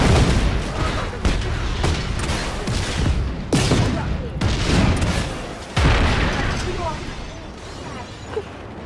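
Explosions and gunfire in the video game Just Cause 3, loud repeated booms and crackling blasts that hit in several heavy waves, with a player talking over them.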